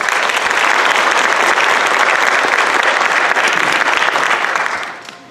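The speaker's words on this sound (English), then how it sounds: "please give a little applause!" An audience at a traditional song-and-dance performance claps together in loud, sustained applause that holds steady for nearly five seconds and then quickly dies away.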